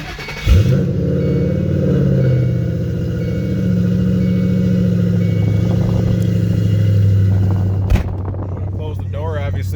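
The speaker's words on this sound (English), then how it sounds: "go ahead and start the vehicle up" A 2006 Ford Mustang GT 4.6L V8 with a loud exhaust cranks and catches, then settles into a loud, deep, throbbing idle that rumbles steadily, with a sharp thud near the end.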